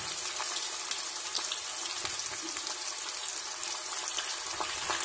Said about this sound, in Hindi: देखिए प्याज डाल दिए हैं और प्याज को थोड़ा ब्राउन होने दें